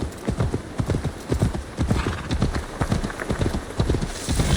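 Horse in Assassin's Creed Valhalla trotting with steady, close clip-clop hoofbeats throughout, a brief whinny mixed in under ambient game noise.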